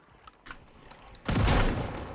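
A burst of shotgun fire in a video game, a few faint pops first, then a loud sustained blast of rapid shots.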